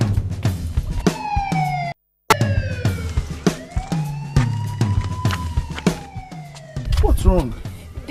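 A police siren wails loud and close, sweeping up and down in repeated rising and falling tones. Short sharp knocks and a brief dropout break in, and a rapid warbling yelp comes near the end.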